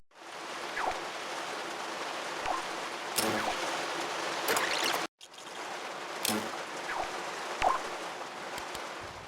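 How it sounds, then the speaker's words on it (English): A rain-on-metal sound effect from the game LittleBigPlanet 3 plays as a steady, dense patter with occasional brighter drips, broken by one brief cut partway through before resuming. "you want rain on metal"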